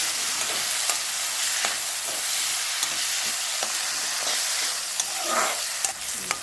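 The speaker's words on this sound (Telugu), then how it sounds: "ఇందులో ముందుగా కట్ చేసి పెట్టుకున్న ఆనియన్స్ని అయితే వేసుకుందాం. ఇవైతే బాగా వేయించుకోవాలి." Chopped onions sizzle steadily in hot oil in a pan for drumstick curry, with a broad continuous hiss and sharp scraping clicks of a spatula stirring at intervals.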